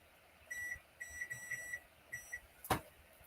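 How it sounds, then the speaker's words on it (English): A kitchen timer alarm beeps in quick clusters of short, high electronic tones, fairly faint and close, before a sharp click cuts it off; no one speaks. "I gotta reset this timer."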